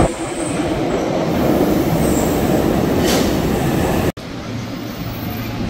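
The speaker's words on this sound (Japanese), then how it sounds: "横浜市営地下鉄ブルーラインに乗って新横浜駅へ向かいたい" Steady, loud rumble of a Yokohama Municipal Subway Blue Line train heard from inside a carriage, with continuous rail and wheel noise and a brief dip near the end as the ride carries on.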